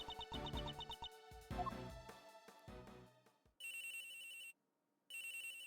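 An electronic phone ring sounds in a video game. It comes as loud, steady bursts of trilling tone with a short gap between them, following a stretch of game music.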